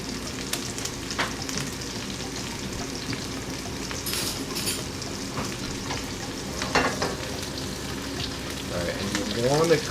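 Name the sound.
steak frying in butter in a pan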